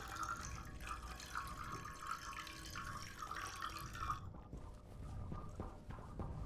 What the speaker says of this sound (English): Nice, refreshing water.